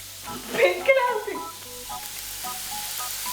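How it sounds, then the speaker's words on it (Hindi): Chopped onion dropped into hot oil in a pan, a sudden loud sizzle that bursts up then settles into a steady frying hiss, with a voice speaking briefly over it. "अंदाजे से प्याज डालेंगे जब तेल गर्म हो गया तो"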